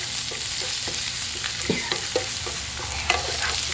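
Garlic, ginger and green chilli sauté in a pan for chicken thoran, a soft steady sizzle with light scraping stirs and a few sharper clinks near the end.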